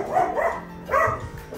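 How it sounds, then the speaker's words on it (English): Dogs bark indoors in a few loud, close bursts spaced across a short stretch, with no one talking over them. "dogs are barking"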